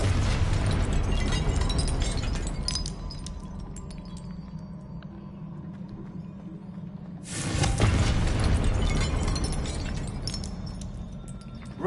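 Confringo blasting spells exploding in the Hogwarts Legacy video game: a loud burst with a long rumbling decay, then a second powerful blast around midway that swells and slowly fades, no talking.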